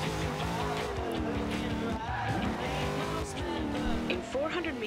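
A Corvette C7 SR drifts in Forza Horizon 2, its engine roaring loudly as tire squeal wavers and bends in pitch through the slide, continuous and close for the whole stretch.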